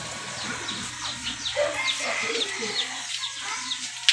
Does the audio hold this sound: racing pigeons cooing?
yes